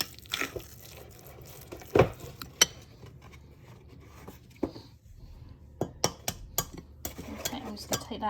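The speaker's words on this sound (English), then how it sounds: "give the eggs a really good mix with that fork" A fork knocks and scrapes against a bowl while eggs are mixed, giving irregular clinks and taps, some sharp and close, scattered over a quiet background with a busier cluster toward the end.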